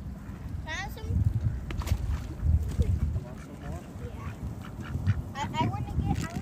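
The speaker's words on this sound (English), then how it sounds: "I want to lure the white ducks out." A flock of white ducks quacks in a residential community, scattered nasal calls popping out repeatedly over a busy background while children talk and exclaim nearby.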